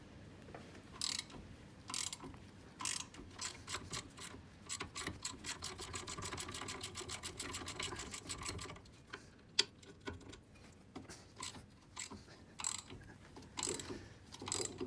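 A socket ratchet loosens the two 15mm brake caliper bolts on a Ford Focus Mk2, giving close, rapid clicking bursts that speed into a fast steady run of ticks, then break into irregular short clusters of clicks.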